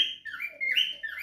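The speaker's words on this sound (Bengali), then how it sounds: "কত সুন্দর প্রত্যেকটা পাখি কিন্তু ডাকাডাকি করতেছে" Pet cockatiels in an aviary call just after feeding, a run of bright, close chirps and whistled tweets that rise and fall in quick succession with brief gaps, heard alone without voices.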